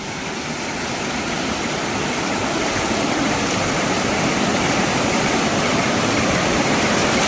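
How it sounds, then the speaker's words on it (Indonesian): Waterfall in a forest pouring as a loud, steady, broadband roar of rushing water that holds constant throughout, with no voices heard. "luar biasa ini air terjunnya, teman-teman."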